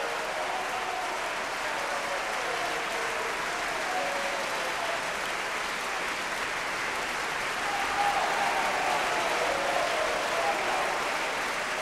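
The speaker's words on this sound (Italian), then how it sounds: "Applaus auch für den Regisseur Luc Bondy." Sustained, even applause from an opera house audience for the director after a 1995 Salzburg staging of Le nozze di Figaro, a dense clapping wash that swells slightly near the end.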